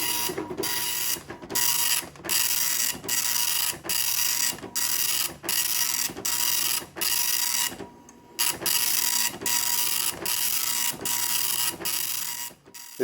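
A C.Itoh 8510 9-pin dot matrix printer, Apple-branded, prints line after line with loud buzzing bursts, each broken by a brief pause, in a steady mechanical rhythm that fills the whole clip.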